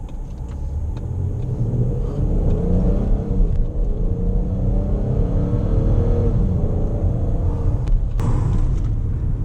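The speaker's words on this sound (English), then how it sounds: "we're gonna give a little bit of gas right here" A car engine idles close with a deep rumble, then revs up smoothly and settles, steady and loud, ending with a couple of sharp knocks.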